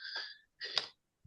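Someone sneezes indoors during a conversation, two quick breathy bursts close together, then silence.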